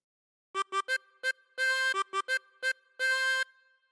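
Harmonica plays a phrase of Old MacDonald Had a Farm: quick short notes in pairs and triplets broken by two longer held notes, close and clean, solo with no voices.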